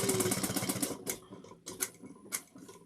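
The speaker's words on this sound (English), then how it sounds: "I like to sew over the little triangle cutout" A sewing machine stitching across a small triangle cutout on a slouch shoulder bag, starting with a fast, close run of stitches and then breaking into short separate bursts.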